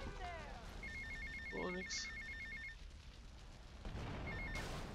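An electronic telephone rings with a rapid trilling pulse in Grand Theft Auto: Vice City, heard in two bursts with someone talking over and between them amid game background noise.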